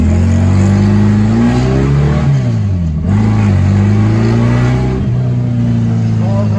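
A VW Super Beetle fitted with a Holley Sniper EFI system pulls away in first gear out of a shop, its air-cooled engine droning loud and close, rising in pitch, easing off, then climbing again through the gear.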